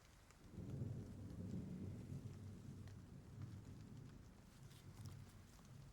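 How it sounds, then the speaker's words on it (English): Nighttime thunderstorm in the horror video game Silent Hill 2: steady rain hisses over deep rolling thunder that swells early and then eases, with no one talking. "That there's a storm and it's nighttime now."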